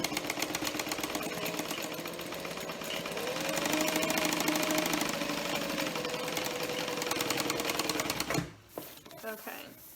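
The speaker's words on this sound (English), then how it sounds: "I would suggest back stitching along each of the card slots just for reinforcement" A sewing machine back stitching along the card slots of a structured wallet, rapid steady mechanical stitching that runs for about eight seconds and then stops abruptly, followed by faint handling noises.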